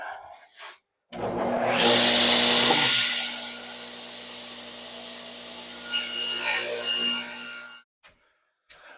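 Hand saw cutting through a wooden board for a vanity shelf, a loud steady rasping stroke for several seconds, a brief quieter pass, then another loud burst of sawing before stopping.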